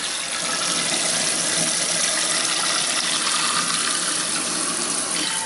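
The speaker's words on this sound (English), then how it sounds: "So just pour it all directly into a fine mesh strainer." Steady broadband rush of water pouring into a fine mesh strainer and splashing close by, continuous for several seconds with no voices.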